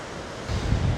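Rushing surf and wind blowing across the microphone at a seaside cove in Şile, a steady low roar that swells louder halfway through.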